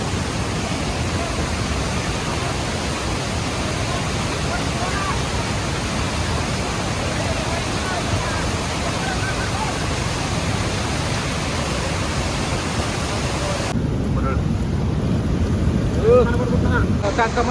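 The flooded Bhima river rushes past, a dense, steady roar of fast-moving water with a broadband wash that stays constant and loud for the whole stretch.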